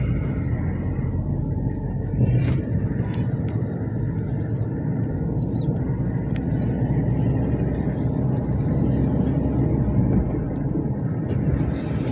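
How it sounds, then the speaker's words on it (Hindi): An RTO flying squad vehicle in Bhopal drives off, a steady low engine rumble with road noise that stays fairly even throughout. "ये जा रही है गाड़ी"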